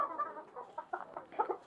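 Australorp and desi chickens cluck in short, soft bursts at a modest distance, a rooster among the hens, with no talk.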